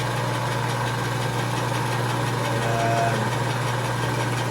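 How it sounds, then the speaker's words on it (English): A steady electric motor of a Craftsman 101 6-inch metal lathe hums and drones continuously at constant pitch, fairly loud with a faint mechanical whine on top and no talking. "Okay, so that's what it sounds like."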